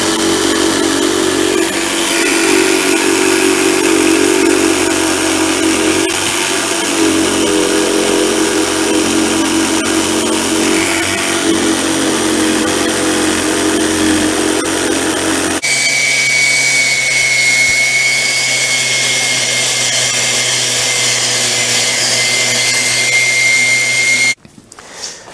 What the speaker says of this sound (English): I'm going to sand it down and then cut out the ellipse